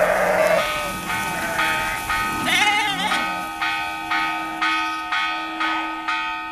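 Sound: church bells ringing in a Mongolian village

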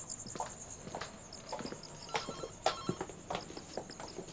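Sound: home telephone ringing

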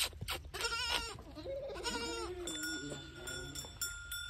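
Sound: small goat bleating

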